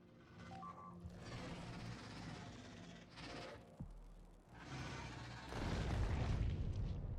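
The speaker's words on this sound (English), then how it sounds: "Artillery." Booming artillery fire in the factory-building game Factorio with the Krastorio 2 mod, heavy dull blasts layered over a busy game soundscape, with a sharp thump near the middle and a louder rumbling surge toward the end.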